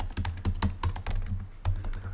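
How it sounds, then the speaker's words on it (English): Rapid, uneven keystrokes clatter on a computer keyboard, close and clear, with a low steady hum beneath. "typing is failing me now"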